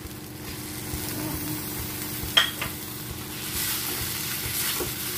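Broccoli frying in butter and oil in a pan, a steady soft sizzle with occasional scraping and clacking as a utensil stirs it, heard close and moderately quiet with no talking.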